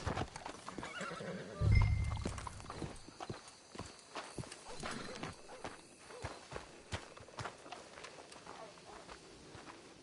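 In Red Dead Redemption 2, hooves clip-clop along as a horse whinnies loudly near the start, with talking over the steady walking rhythm.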